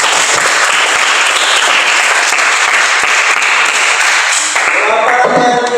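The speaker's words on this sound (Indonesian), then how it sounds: "tepuk tangan" A high school classroom of students claps their hands together in a loud, close, continuous burst of applause during a Christian religion lesson, with crisp individual claps standing out as it tails off.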